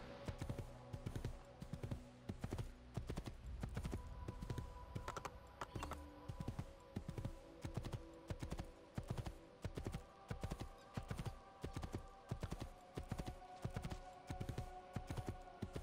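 Steady, rhythmic clip-clop of horse hooves in the Assassin's Creed II video game, an even trotting beat repeating throughout at moderate loudness over a constant game background hum.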